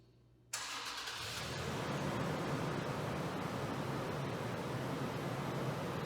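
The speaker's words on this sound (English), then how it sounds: "Press and hold the start button for 3 seconds to start the truck." A 2019 Toyota 4Runner's engine, started by remote start, cranks and starts abruptly after a moment of quiet, then settles into a steady, rushing idle that continues evenly without any talking.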